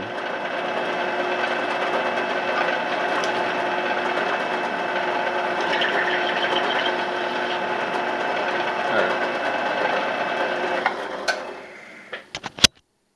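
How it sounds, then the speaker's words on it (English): Steady mechanical whirring of a tool cutting and chamfering the end of a stick for a small keychain tripod, continuous and fairly loud for most of the span, then stopping with a few clicks and knocks. "You can see as I'm cutting into it how it's chamfering"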